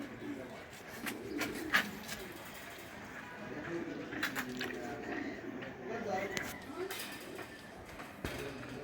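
Pigeons, a pair of jhakgola (kalpit) birds, cooing softly at close range, low murmuring calls repeating under someone talking steadily throughout.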